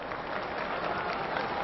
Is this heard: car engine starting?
no